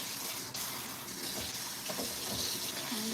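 Canned beans for homemade chili are rinsed under a running kitchen tap, producing a steady, close gush of water that continues throughout without talk.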